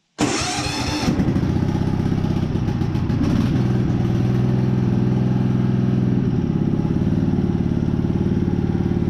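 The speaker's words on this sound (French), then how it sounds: "Allez, on met starter à fond et on démarre, normalement." A broken-down ride-on lawn mower tractor engine, run with the choke fully on, cranks and catches, then settles into a loud, steady, close-up idle that continues alone to the end.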